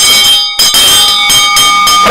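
A loud bell rings out with a sustained, bright metallic tone, struck in a few quick repeated strokes and then left ringing at close range.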